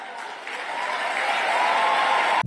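A studio audience breaks into applause after a short lag, broadband clapping swelling from sparse to full within a couple of seconds and cutting off abruptly.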